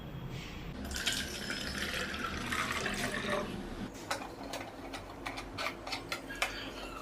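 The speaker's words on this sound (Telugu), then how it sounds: "అండ్ ఇప్పుడు ఇందులో కొంచెం వాటర్ కూడా యాడ్ చేద్దాం." Water added to cleaning solution in a spray bottle, a soft trickle at first followed by scattered drips and small plastic taps, close by with no talk.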